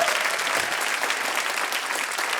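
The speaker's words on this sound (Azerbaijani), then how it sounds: "Bir alqışlar gəlsin zəhmət olmasa" Audience applause in a television singing-contest studio, heard as dense, even clapping that stays loud and continuous from start to finish.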